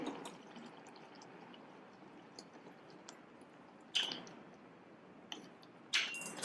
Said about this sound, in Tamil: இன்னும் கொஞ்சம் மட்டும் தண்ணி சேர்த்துட்டு